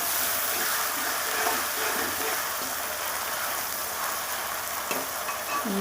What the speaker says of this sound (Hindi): लहसुन अदरक का हमने पेस्ट डाला है। अब हम इसको अच्छी तरह से हिला लेंगे।